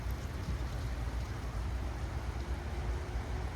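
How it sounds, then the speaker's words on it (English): Steady rain falls on a gloomy day, a continuous dense hiss with a low rumble underneath, even and unbroken throughout, with no voices. "Oh, such a rainy day."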